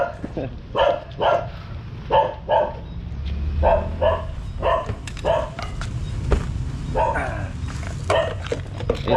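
A dog barks repeatedly, about a dozen sharp barks in uneven bursts, over a low rumbling background with some voices mixed in.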